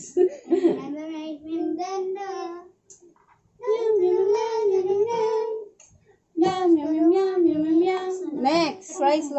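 Children sing a song tune using only repeated meows in place of the lyrics, three sustained melodic phrases separated by short pauses, the voices imitating cat sounds.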